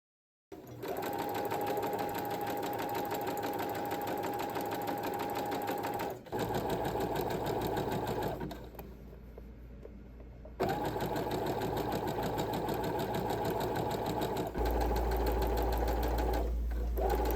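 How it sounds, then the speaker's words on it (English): A sewing machine stitches together a lined shirt for a clothing collection. Its close, steady mechanical whir runs continuously, with a short break near the middle and a brief quieter stretch before it resumes. "I will cut out the pattern pieces and start sewing."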